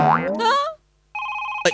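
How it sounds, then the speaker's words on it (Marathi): A touchscreen phone rings on a comedy stage. A springy boing-like tone comes first, then after a brief gap a bright electronic ring chimes steadily and loudly. "फोन आला"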